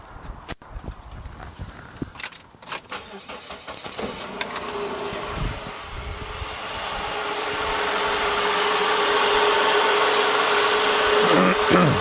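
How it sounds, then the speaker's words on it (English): A car engine cranks during a battery test, a few uneven clicks and turns, then catches and settles into a steady, rising hum that grows louder and holds. "So let's start up the engine."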